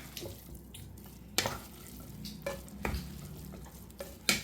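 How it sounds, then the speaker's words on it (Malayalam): Chicken kothu chapathi is stirred and mixed in a hot pan, giving a soft continuous sizzle broken by several sharp scrapes and clatters of the spoon, with no talk. "അതിനുശേഷം വീണ്ടും ഒന്നും കൂടെ അങ്ങോട്ട് മിക്സ് ചെയ്ത് കൊടുക്കാം"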